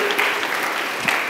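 Brief congregation applause at a church service, a short burst of dense clapping.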